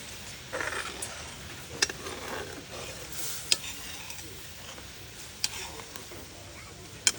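Food fries in hot oil until brown, giving a steady close sizzle and occasional sharp ticks and pops with no voices.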